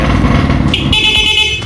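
An AORA keyless alarm on a Yamaha NMAX scooter, set off by shaking the handlebars, wails with a steady high electronic tone over a low rumble of handling noise, loud and close, sustained for the whole stretch.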